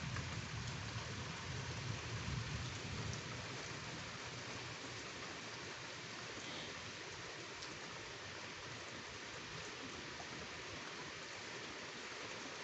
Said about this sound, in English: And it was lightning and thunder.